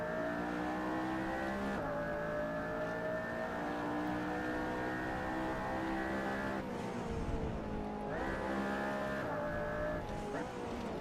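A McLaren P1 engine drones and revs hard around the Nordschleife in the racing game Assetto Corsa, a sustained high whine that drops on shifts and braking then climbs again, with a driver's voice over it.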